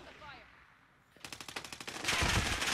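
Rapid automatic gunfire in Call of Duty Warzone on Rebirth Island, a burst of about a dozen quick shots followed by a louder sustained volley, close and sharp after a quieter moment.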